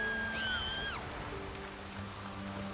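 Heavy rain downpour in The Witcher 3, a soft steady hiss of falling water at low level, with a brief tonal sweep near the start and faint sustained ambient game tones underneath.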